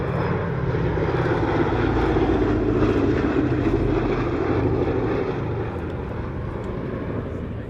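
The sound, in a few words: B-24 Liberator bomber aircraft engines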